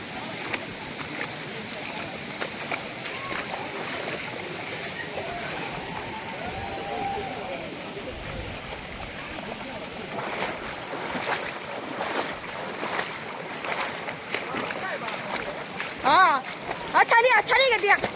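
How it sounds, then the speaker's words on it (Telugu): River water flowing steadily near Irala waterfalls in Chittoor, a soft continuous rush heard at a distance, with faint wind and a few brief knocks toward the end. "ఒక నది ప్రవాహంలాగా నీళ్ళు అనేది వస్తున్నాయి"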